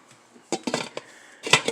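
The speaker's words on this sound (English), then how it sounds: "You need a big GI pot." Metal cookware clanks and scrapes in a few short bursts as a big GI cooking pot, meant for boiling peanuts, is handled, with quiet pauses between the knocks.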